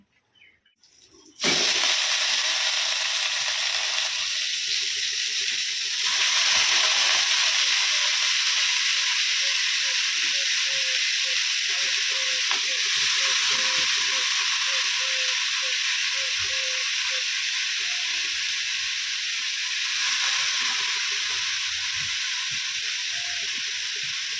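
Ash gourd slices frying in hot oil in a pan give a steady, loud sizzle and hiss that runs almost the whole time, with faint crackles and no talk.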